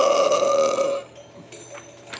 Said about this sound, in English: Scary haunted burps.